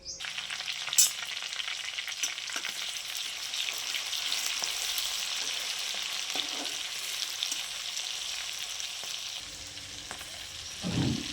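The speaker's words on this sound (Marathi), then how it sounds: "तेल तापलं आहे. आता यात अगोदर मी टाकते अद्रक आणि हिरवी मिरची आणि कढीपत्ता." Ginger, green chillies and curry leaves sizzle loudly in hot oil, a dense crackling hiss that holds steady, with a few utensil taps close by.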